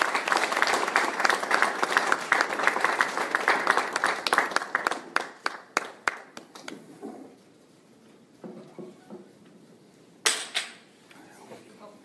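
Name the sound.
audience applause welcoming speaker to podium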